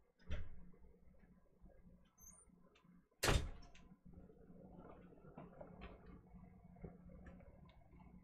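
A door opening and closing as a dog is let out, with a thump early on and a sharp loud bang midway, followed by faint shuffling and rustling in a quiet room.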